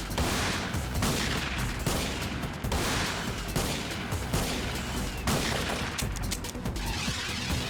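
Gunfire in the video game Digital Devil Saga, bursts of loud sharp shots repeating at a quick, uneven rhythm with heavy booming impacts, close and continuous.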